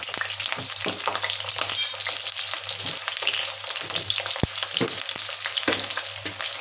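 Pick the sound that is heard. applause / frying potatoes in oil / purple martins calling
frying potatoes in oil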